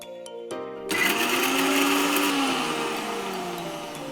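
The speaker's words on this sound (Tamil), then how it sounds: "முதல்ல ஒரு சின்ன மிக்ஸி ஜார்ல இஞ்சி அண்ட் பச்சை மிளகா நல்லா ஸ்மூத்தா அரைச்சிக்கலாம்." A mixer grinder grinding ginger and green chillies starts up with a rising whir and runs steadily at high speed, loud and close, with a slight drop in pitch as it churns.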